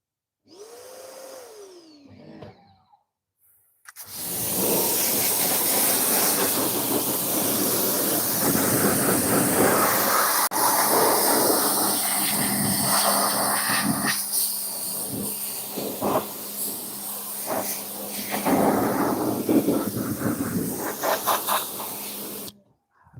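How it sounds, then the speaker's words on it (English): Pressure washer spraying car wheels clean: a loud, continuous hissing blast of water that starts abruptly after a short quiet stretch with a faint rising tone, then runs steadily with slight surges until it cuts off near the end. "Let's go ahead and pressure wash these wheels off."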